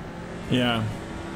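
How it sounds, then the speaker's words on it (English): A race car bottoming out at Mount Panorama in the iRacing video game: a brief scraping, grinding drop in tone over steady engine drone, with commentators talking underneath. "Just the car bottoming out."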